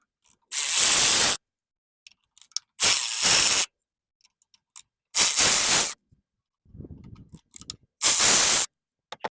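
Ratchet wrench loosening 10 mm coil pack bolts on a Toyota engine during a spark plug change: four loud bursts of rapid clicking, each about a second long with silent gaps, plus a quieter shuffle between them.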